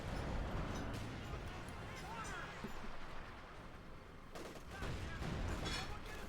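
Gunfire in the Company of Heroes 2 battle game: dense, distant rattling fusillades and bangs, including rifle shots and a Panzer IV firing, held under a steady bed of battle noise with talk mixed in.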